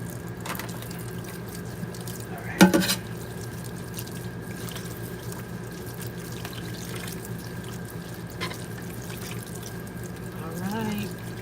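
Tap water runs steadily into a kitchen sink as a large crown of broccoli is washed, a continuous soft rush with a brief louder splash near the start and light handling noises.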